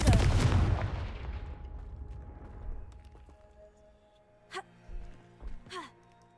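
A Confringo fire spell blasts in Hogwarts Legacy, a loud booming burst with a long decaying rumble, followed by several sharper short cracks.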